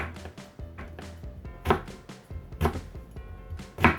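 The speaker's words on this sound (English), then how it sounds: "I'm going to just chop it in half, and then into slices" A kitchen knife chops a carrot into slices on a cutting board for Vietnamese spring rolls, a close, irregular series of crisp taps with a few louder thuds.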